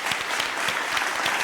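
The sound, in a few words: studio audience applause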